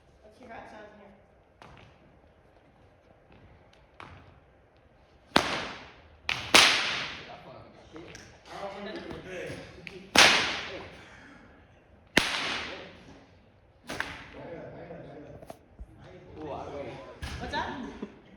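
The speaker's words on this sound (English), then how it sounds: "This is a whip I made. This is the second whip I made." A handmade whip cracked indoors, about seven or eight sharp, loud snaps spaced a second or two apart, each with a short room echo, with some talking between the cracks.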